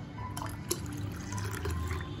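Water poured into a cooking pot for chana biryani, a steady close-up liquid pour running continuously, with a few small splashes and no talking.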